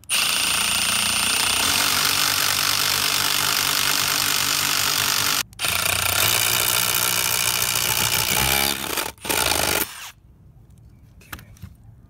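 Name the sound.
drilling through wood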